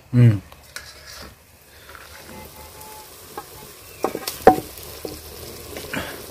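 Chicken keema frying in a pan for a village-style keema meal: a loud clatter at the start, then close sizzling and scraping stirs with scattered utensil knocks and faint voices in the background.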